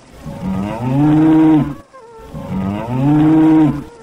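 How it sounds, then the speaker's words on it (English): A distressed cow being dragged toward a river gives two long, loud, close moos with a strained, wavering tone and a short pause between them, and there is no talk. "The cow started getting dragged towards the river. It started to cry in distress."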